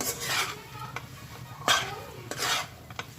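Churma ladoo mixture with cashews, almonds and pistachios is stirred in a pan: a few scraping, rasping sweeps of a spoon against metal, close and fairly quiet, with light taps between strokes.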